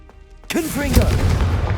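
A Confringo blasting curse explodes in Hogwarts Legacy, a sudden loud boom after a quiet moment, followed by swooping whistling tones and a long rumbling, crackling tail.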